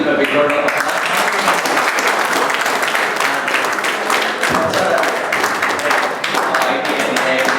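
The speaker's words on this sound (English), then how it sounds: "So please give a big round of applause." Audience applause at a college IT department seminar, loud and close with a dense clatter of many hands clapping continuously, a slight dip midway, and a voice likely speaking underneath.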